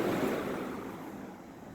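A vintage LakeWood P-223 electric fan spins down after being switched off, a soft, steady rush of air fading gradually and evenly close by, with no talking.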